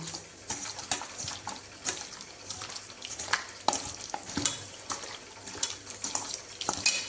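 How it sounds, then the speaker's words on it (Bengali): Chicken being stirred together with cumin powder and other spices for biryani, a spoon scraping and clinking in a bowl in quick irregular strokes over a faint wet background hiss. "এবার আমি সব কিছু একসঙ্গে মিক্সড করে নেব"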